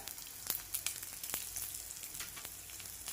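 Green chilies, ginger pieces and urad dal roasting in a pan for South Indian coconut chutney, giving a soft steady sizzle with a few sharp crackles and pops, close and fairly quiet.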